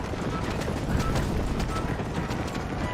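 Horse hooves clip-clop steadily at a brisk pace in the Red Dead Redemption video game, a dense, continuous patter of hoofbeats with faint voices talking underneath.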